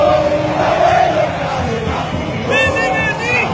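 A crowd shouts in a rough chorus of raised voices and yells, loud and close, rising and falling over a few seconds.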